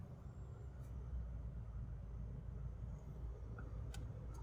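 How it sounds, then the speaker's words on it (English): A Jeep Renegade Sport idles steadily after starting, a low continuous engine rumble close by with a couple of faint brief clicks, no talking. "Let's go ahead and start the car."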